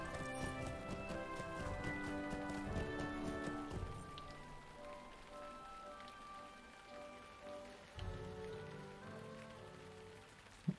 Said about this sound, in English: One of the ambient sound effects is stuck. I just noticed it. It's like rain or fire or something.